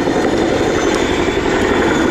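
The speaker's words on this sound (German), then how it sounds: "sehen wir, wie schnell der Hubschrauber auf der Stelle drehen und halten kann" A Boeing-Vertol CH-47 Chinook helicopter roars at an air show while turning and holding on the spot, with a loud, steady rotor and engine drone that fills the whole moment without a break.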